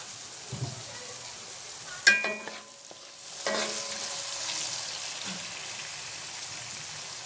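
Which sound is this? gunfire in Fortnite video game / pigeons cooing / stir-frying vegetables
stir-frying vegetables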